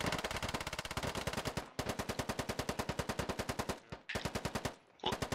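Machine gun suppressing fire in the video game Squad, long loud bursts of rapid automatic shots at a steady rhythm, broken by brief pauses between bursts.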